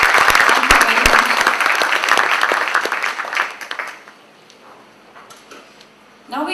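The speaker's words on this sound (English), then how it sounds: "I think Mr. Shah deserves another big round of applause." Loud, dense applause from an audience fills the first few seconds, then fades out into near silence before a brief burst returns at the end.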